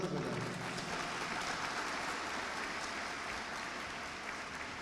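Audience applause at a speech event in Lahore, a broad steady wash of clapping from a large crowd that carries on throughout without pause.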